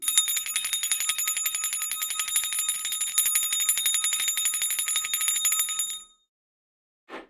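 A real jingle bell rings continuously for about six seconds, a bright, steady metallic shimmer played close and fairly loud, then stopping with a brief soft sound near the end.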